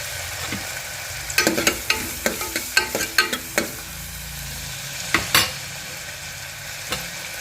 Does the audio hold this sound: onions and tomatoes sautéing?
yes